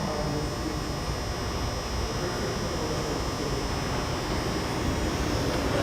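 A Miami Metromover train on the Brickell loop arrives at a station on a Friday night, giving a steady rumbling roar with a constant high whine that holds close and loud throughout, without speech.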